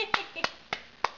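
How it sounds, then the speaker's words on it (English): A baby claps hands four times at the dinner table, soft, close, and evenly spaced, each clap a short bright slap with brief quiet between. "It's a little clap."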